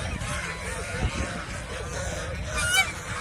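Geese at a goose farm honk loudly and close by in short repeated calls, with a brief sharper honk near the end over a busy outdoor background.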